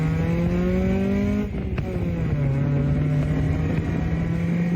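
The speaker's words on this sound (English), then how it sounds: "and a loud exhaust" A car engine idles with a deep, throaty exhaust rumble, briefly blipping the throttle before settling back to a steady drone.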